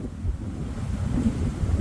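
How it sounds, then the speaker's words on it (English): Steady wind buffets the microphone outdoors in a backyard garden near a fence line, a continuous low rumble with no speech, loud and close throughout. "Sorry about the wind, folks."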